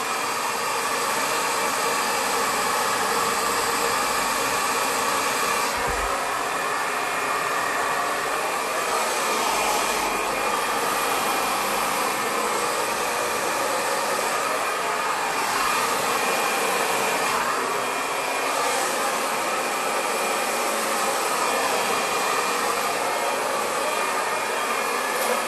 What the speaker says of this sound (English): Next section for blow drying.